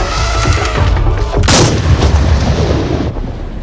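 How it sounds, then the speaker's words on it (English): A loud, sharp hunting rifle shot rings out in a safari hunting video game, booming over steady low background rumble and tailing off into a long echoing decay. "make sure to pick proper gear and place a precise shot"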